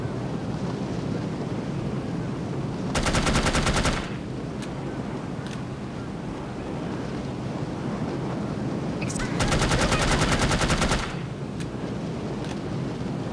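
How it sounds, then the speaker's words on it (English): An enemy fires an automatic weapon in the video game No One Lives Forever, two sustained rapid bursts of gunfire over a constant windy background hiss. "He's shooting at me here."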